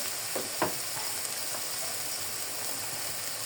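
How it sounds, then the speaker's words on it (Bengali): Turmeric and chili powder frying in a pan, a quiet, steady sizzle with a few soft scraping clicks from stirring near the start, no voices. "এখন আমি মশলাটাকে ভালো করে কষিয়ে নেব।"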